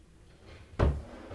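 A small wooden cutlery drawer in a handmade cupboard or larder slams shut without soft-close, a single sharp thud with a short low rumble after a quiet lead-in.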